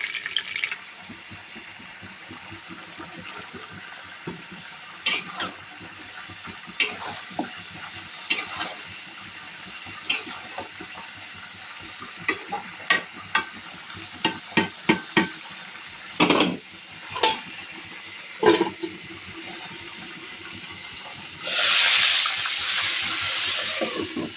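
Food frying in a pan for a festive home meal gives a steady close-up sizzle with scattered sharp pops and crackles and a brief louder hiss near the end.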